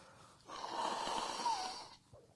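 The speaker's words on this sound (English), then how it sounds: "I need to blow my nose real quick." A person blows their nose in one sustained, breathy honk lasting about a second and a half, close and fairly quiet, with no talking.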